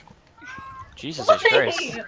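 A house cat lets out a loud, wavering meow close by, rising and bending, while a person speaks briefly over it.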